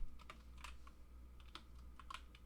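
A computer keyboard clatters as a folder name is typed out, a quick, close run of uneven keystrokes in a quiet room, with no voices.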